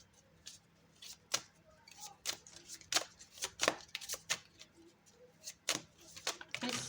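Heavy playing cards are shuffled and riffled in a run of sharp, crisp snaps and flutters, close and fairly quiet, with no voice over them.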